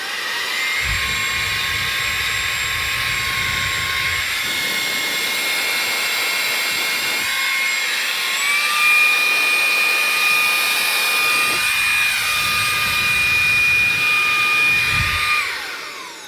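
Electric air blower cleaning gadget running close up with a loud, steady high-pitched whine that shifts pitch as its speed changes, like a hair dryer, briefly spinning down and back up partway through.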